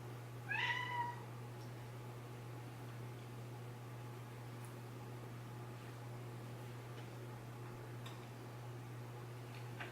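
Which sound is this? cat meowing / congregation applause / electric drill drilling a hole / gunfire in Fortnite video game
cat meowing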